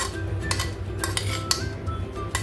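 Chopped vegetables and coriander being mixed in a bowl, repeated close spoon clinks and scrapes against the bowl in an uneven rhythm.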